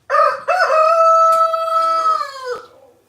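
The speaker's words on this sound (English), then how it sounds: "Dances with roosters." A rooster in rural Maine crows loudly and close by in one long, clear cock-a-doodle-doo lasting about three seconds, with a faint cluck partway through.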